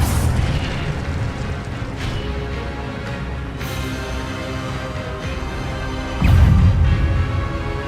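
The Incendio fire spell in Hogwarts Legacy: a sustained roaring, crackling blaze with several sharp bursts, swelling into a heavier boom near the end, loud and continuous.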